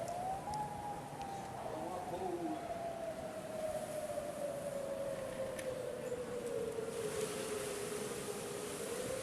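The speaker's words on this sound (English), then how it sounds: "How did they add a dual tone siren?" An outdoor tornado warning siren sounding during a test, a steady wailing tone heard from a distance that slowly drifts lower in pitch, with a second fainter tone briefly beside it, over constant wind and background noise.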